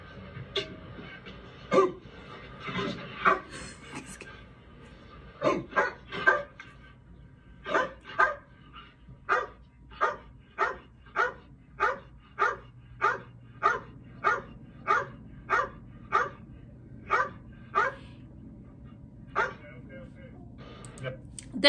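A police K9 dog barks in a steady series of sharp, evenly spaced woofs, a few louder irregular barks first, then a regular rhythm, with some background talk underneath.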